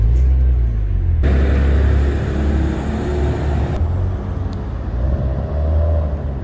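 A Maserati Ghibli idles with a deep rumble, then its engine fires up with a burst of louder, broader roar that holds for a couple of seconds before easing back to a lower, steady idle.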